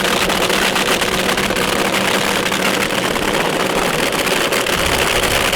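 A drag racing car's engine runs loud and steady at a nighttime nationals event as it is pulled into forward gear, a constant dense roar with no talking.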